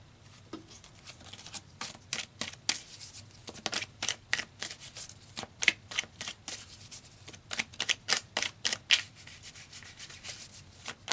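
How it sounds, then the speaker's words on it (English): Tarot cards being shuffled and pulled for a reading, a steady run of crisp riffling bursts and soft rubbing slides close up, repeating in quick irregular clusters with no talking. "So let's pull some more cards here."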